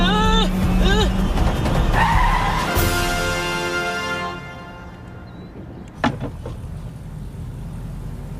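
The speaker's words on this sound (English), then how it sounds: "Let's hope she doesn't squeal on the brakes and drive toward the object this time." Car tires and brakes squeal during a driving challenge, with a rising engine note and a long skid that fades out, then a short thud and rattle. A person speaks at the start.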